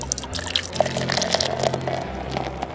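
Root beer pours from a brewing machine as a steady, soft liquid stream with light dripping and splashing, running for a few seconds with no talk over it.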